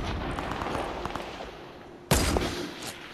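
Fortnite rocket launcher or sniper rifle fire: one sudden, loud blast cuts through a busy game soundscape near the end, sharp and close.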